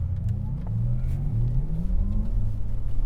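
A 2021 Porsche Taycan Turbo S electric car pulls away hard on a track at a Porsche Experience Center, a rising low whir and rumble building steadily from inside the cabin.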